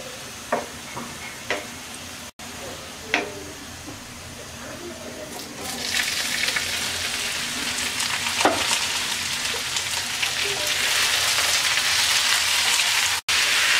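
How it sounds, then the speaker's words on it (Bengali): Boiled lau shak greens go into a pan of browned onion and garlic and are stirred as they fry, giving a steady sizzle with scattered scraping knocks of the spoon that grows louder and fuller partway through. "এবার হালকা হাতে 2 থেকে 3 মিনিট নাড়াচাড়া করে নামিয়ে নেব"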